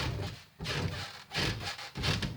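Rhythmic scraping strokes of a fleshing tool dragged across a beaver hide, removing flesh in three or four broad rasping passes with short pauses between, close and fairly loud.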